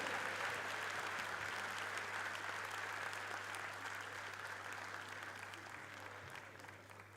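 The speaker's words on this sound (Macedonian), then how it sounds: "Уште еден аплауз за првиот победник во првата категорија." A hall full of people applauds a winner at a sports award ceremony, steady dense clapping that holds for several seconds and slowly fades, with a low hum underneath.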